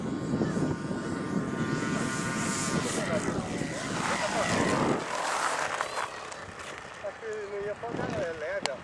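Small model airplane engine running on the ground, a buzzing droning note with steady harmonics that shifts pitch and thins out midway, with people talking nearby.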